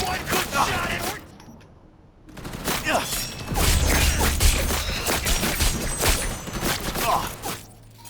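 Rapid gunfire from Cyberpunk 2077 crackles in dense bursts of sharp shots, with a brief lull early on, then sustained firing and impacts.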